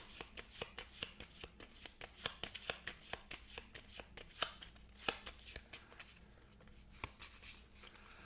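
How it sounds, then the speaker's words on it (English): Board game cards from Dead of Winter are riffled and squared repeatedly in a quiet, close, steady rhythm of crisp flutters and soft taps, with no talking. "Shuffle these back up."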